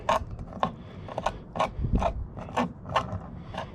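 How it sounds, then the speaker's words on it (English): A razor clam's tail scraped on one side and then the other, a series of about eight short, raspy scrapes at a steady rhythm, close and fairly loud with no speech. "I scrape on one side of the tail, and then I scrape on the other side of the tail"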